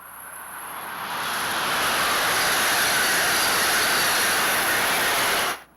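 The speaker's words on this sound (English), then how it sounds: "Listen to what it sounds like when one of these high-speed Amtrak trains approach." A high-speed Amtrak train approaches, its broad rushing roar swelling steadily from quiet to a loud, sustained wash of wheel and air noise before cutting off abruptly.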